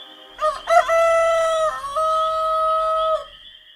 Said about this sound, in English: he heard a rooster crow twice.